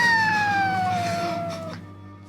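A cat's drawn-out, descending wail from the Japanese horror film Ju-on: The Curse 2 sounds once, clear and eerie, then fades away into silence.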